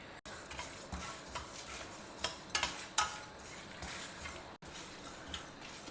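Coriander seeds and dry chillies are dry roasted in a pan over a low flame, giving a quiet, continuous patter of light clicks, rattles and scraping stirs.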